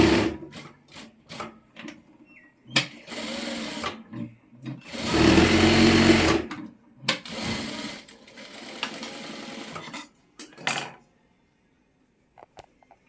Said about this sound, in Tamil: இதை நம்ம ஸ்கொயராக நம்ம தைக்க போகிறோம்